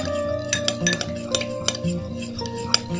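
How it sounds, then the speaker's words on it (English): Metal utensil scraping and clinking against a bowl as a Vaseline-based mixture is stirred, with a steady rhythm of soft taps, close up. "Now mix very well."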